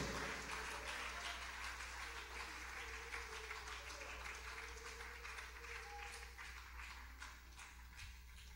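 A church congregation claps together at a Sunday evening service, steady broadband applause filling the space throughout, moderately near, with no voices standing out over it.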